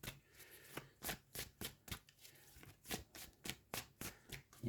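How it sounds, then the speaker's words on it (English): Tarot cards are shuffled close by, about a dozen quiet riffling bursts in an uneven rhythm, soft and without talk. "let's just wait until we get the right shuffle"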